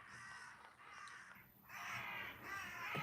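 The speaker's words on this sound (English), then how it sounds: "Can you hear that in the background? There's a load of crows just appeared through nature." Several crows cawing outdoors in nature, harsh repeated calls at a moderate distance, growing louder and denser toward the end with no one talking.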